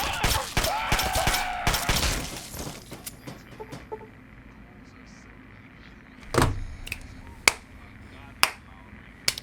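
Gunfire in the Fallout 3 video game: a few sharp, loud shots ring out roughly a second apart over quieter ambient game sound, after a busier stretch of clattering action.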